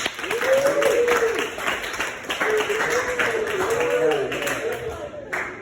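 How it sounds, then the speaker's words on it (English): A stand-up comedy audience applauds in a live club show, steady clapping that runs beneath a voice speaking over it, moderately loud and continuous. "round of applause for Robin Williams"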